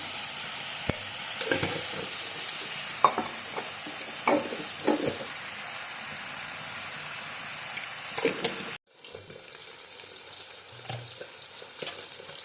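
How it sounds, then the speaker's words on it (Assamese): Potatoes frying in oil with turmeric, a continuous close sizzle with spatula scrapes and stirring knocks, briefly cut off and resuming at a slightly lower level. "এয়া হৈ গ'ল মোৰ আলু ভাজি"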